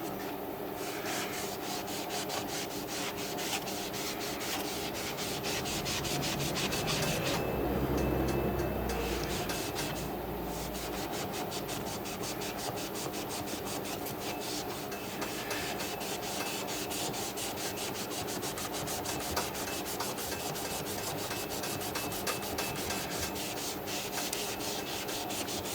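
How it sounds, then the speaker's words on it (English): A magic eraser scrubs the playfield of a 1976 Gottlieb Target Alpha pinball machine in a continuous close rubbing and scraping rasp, with rapid back-and-forth strokes sustained for nearly half a minute without talk. "This Playfield is really eating up the magic eraser."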